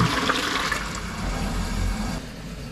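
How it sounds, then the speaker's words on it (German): A flushing water toilet at a tiny-house seaside camp resort in Denmark rushes loudly and steadily at close range, then eases slightly toward the end. "das ist ein Klo, ein Wasserspülklo"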